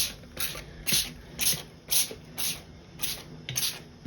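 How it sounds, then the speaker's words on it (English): Repeated bursts from a spray bottle spraying dye onto yarn, about eight evenly spaced hissing squirts, close and fairly loud. "I'm going to give this another little spray."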